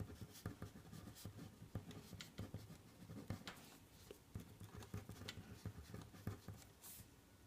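A pen scratches across paper in a math lesson, writing out constant speed intervals for a speed problem; quiet, close strokes and taps come in irregular bursts with no talking.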